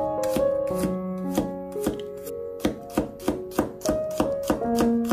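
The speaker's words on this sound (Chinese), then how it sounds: "准备几粒大蒜子，也把它切成薄片" A knife slices garlic cloves into thin slices on a cutting board, giving a quick, steady series of crisp taps close by with no talking.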